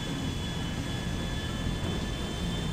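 A jet airliner in the video game GTA 5 sits on the runway before takeoff, giving a loud, steady engine roar with a constant whine throughout and no voices.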